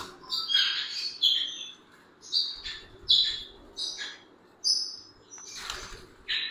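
A pair of violet ringneck parrots gives repeated bright chirps and squawks, close and moderately loud, in short bursts separated by brief pauses.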